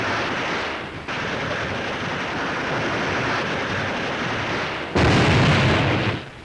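Heavy battlefield explosions from hand grenades in wartime island fighting: a sustained roaring rumble with a sharp blast near one second and a louder, deeper burst near five seconds, loud and without speech.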